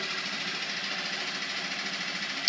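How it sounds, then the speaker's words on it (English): A Coleman 5hp outboard boat motor running just above half throttle, giving a steady, buzzing, slightly rattly drone at moderate distance, unbroken throughout. "maybe someone else with a Coleman motor has that exact same sound"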